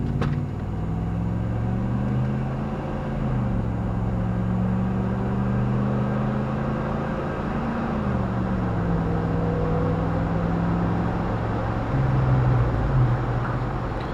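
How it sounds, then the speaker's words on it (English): A 2001 Dodge Durango R/T pulls hard under acceleration, its engine drone rising and shifting in pitch through gear changes, heard steadily from inside the cabin with no voices. "Let's see if we can get another acceleration pull here."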